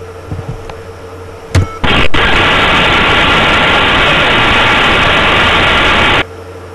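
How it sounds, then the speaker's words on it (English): A PHP script plays a short beep followed by a loud, steady burst of harsh static hiss that lasts about four seconds and then cuts off abruptly. "we're going to hear a beep, we're going to hear some static"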